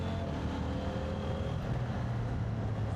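A CF Moto 800MT motorcycle riding along, steady engine drone with rising pitch and a gear change from first to second through the quick shifter, heard over wind rumble.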